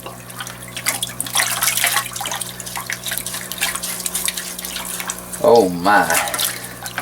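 Water splashes and trickles while an aquaponic garden filter is rinsed out, with uneven gurgling and dripping across the whole stretch. A voice briefly exclaims near the end.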